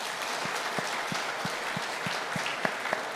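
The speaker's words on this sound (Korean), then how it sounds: "우리 박수 한번 드리겠습니다." At a church anniversary thanksgiving service, the congregation claps for the pastor and his wife as flowers are presented. The applause is a continuous, moderately loud patter, with a few sharper, nearer claps standing out now and then.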